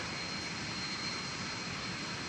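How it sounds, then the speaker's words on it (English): A Delta Airbus A320 taking off from runway 18 left at DFW Airport, a steady distant jet engine roar that holds level for the whole stretch, broad and faint with no voices. "Well, I think we've got a takeoff going on here. Delta Flight 563."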